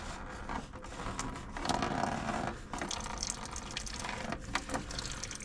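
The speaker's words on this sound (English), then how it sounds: "I'm going to drop the coolant because I want to see that it's green" Coolant draining out of a 1978 Dodge D300 pickup parked for over 40 years, a steady splashing gush of liquid that keeps running for several seconds, swelling louder partway through.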